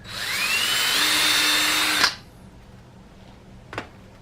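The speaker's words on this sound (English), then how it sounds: "run a pilot hole clear from one side to the other" A power drill bores a pilot hole through wood, its motor whining up to a steady high pitch for about two seconds before cutting off abruptly, followed by a single short knock; close and loud.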